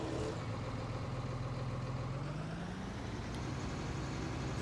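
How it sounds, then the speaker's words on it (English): A tractor engine idles in Farming Simulator 19 with a steady low mechanical rumble and hum, unbroken for several seconds, with no talking. "we're going to grab this tractor"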